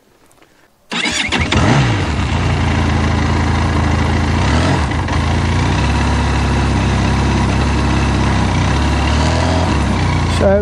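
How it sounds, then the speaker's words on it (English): A TRK 502X motorcycle engine cranks and catches, then settles into a steady, loud idle that runs on without a break after an oil and filter change. "I'm just going to turn the engine over so it circulates the oil around the engine"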